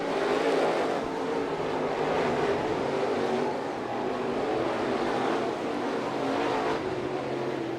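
Crate late model race cars roar around the East Bay Raceway Park dirt track in a feature race, a loud, steady wall of engine noise swelling and fading slightly as cars charge into the turn.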